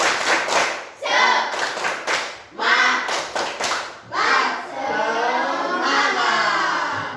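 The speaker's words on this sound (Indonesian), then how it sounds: "Tepuk semangat." A group claps in quick rhythmic bursts, sets of sharp claps separated by short pauses, ending in a longer run of steady clapping.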